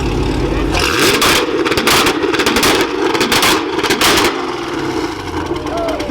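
Camaro with two-step launch control at an evening car meet, loud and close: a rapid stuttering string of harsh exhaust pops and bangs for several seconds, then the engine settles to a rougher idle, with crowd noise around.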